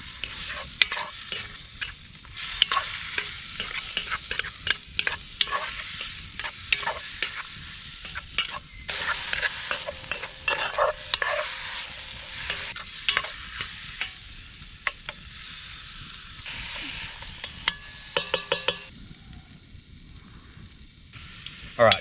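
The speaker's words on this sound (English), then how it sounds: "So I think the meat can go in now, and the oven's gonna be hot enough to really get it going." Meat browns in a hot camp oven outdoors, frying with a constant crackling sizzle broken by repeated scraping stirs and bursts of louder spitting, close up with no talk.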